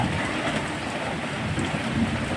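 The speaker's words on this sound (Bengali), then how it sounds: "ওই যে গাছগুলো দুলছে, আবার মেঘ ডাকছে" Steady rain pours down with a dense, hissing wash, and a low rumble of thunder rolls underneath as trees sway in the wind; no voices.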